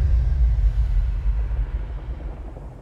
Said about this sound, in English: Once there was an explosion.